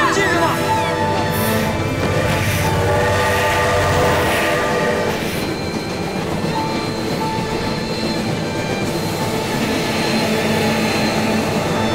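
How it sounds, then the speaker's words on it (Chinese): A train pulls in under open sky near snowy country, its horn sounding and wheels clattering steadily over the rails, loud and close, while people call out over the rumble. "看，火车来了！"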